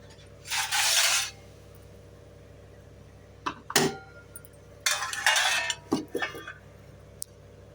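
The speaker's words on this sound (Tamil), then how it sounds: "இப்போ தட்டு போட்டு மூடிடலாம்" A metal plate is set over a cooking pot while mutton biryani is prepared in a kitchen, giving a few short clinks and scrapes of metal on metal, with brief bursts of clattering spread across the moment.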